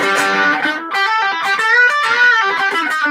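Electric guitar played through heavy, maxed-out distortion, with thick sustained chords and a short break between phrases. It is loud and up close, with no talking over it.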